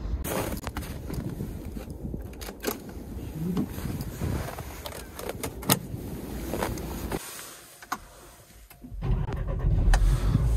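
A car engine cranks and catches in a freezing northern Finland winter, with clicks, door and handling noises around it, then the motor settling into a steady idle nearby.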